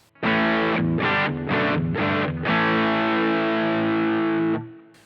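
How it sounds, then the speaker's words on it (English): Electric guitar played through a distortion overdrive patch on a Boss GT-1 multi-effects unit, loud and saturated: four short chugged chords, then one long sustained chord that rings out and cuts off, with no talking. "So let's say that right there would be your distortion overdrive patch."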